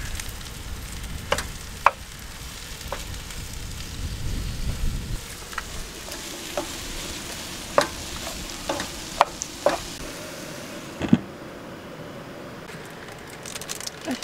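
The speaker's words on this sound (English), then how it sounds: "Give that all a really good stir." Chilli powder and ground cumin being stirred in a pan at an outdoor camp, a soft sizzle with sharp scraping clicks of a utensil against the metal, under low rumbling background noise.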